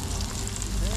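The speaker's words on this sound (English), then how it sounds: "So it's a quick fry. So we still have to stir fry it." Chili garlic prawns stir-frying in a hot pan give a steady, close sizzle with continuous crackling hiss and some low rumble, filling the moment without a break.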